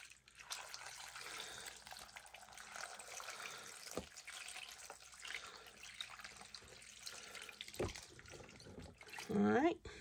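Dissolved pickling liquid is poured from a small container into a dish pan over mixed vegetables, giving a faint, trickling splash that comes and goes, with a slightly louder burst of pouring near the end.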